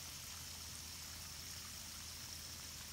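Irrigation water flows steadily through an almond orchard, a faint, even rushing and trickling with no breaks.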